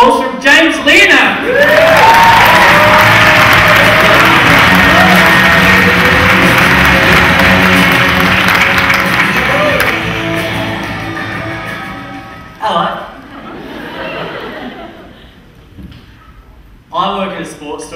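A comedy club audience applauding and cheering for a stand-up comedian, loud sustained clapping and whoops that swell then fade, followed by his voice starting to speak.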